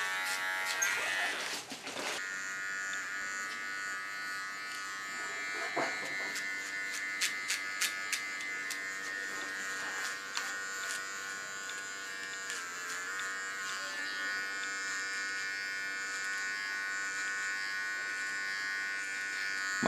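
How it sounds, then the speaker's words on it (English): Electric hair clippers buzz continuously while trimming a contour line on short hair, a steady close whine with brief clicks and shifts in pitch as the blades move, no talking. "Clean the contour line, first with my large clipper and then with my small clipper."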